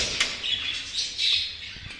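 A show bird squawking while held in a hand, several sharp shrill calls in quick succession, close and fairly loud over a quiet room.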